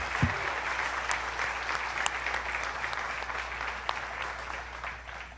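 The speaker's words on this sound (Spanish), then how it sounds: "le damos un fuerte aplauso al Dream Team" Sustained applause from a church congregation honoring a serving volunteer team, a dense even wash of many hands clapping steadily throughout with a low hum beneath, no talk.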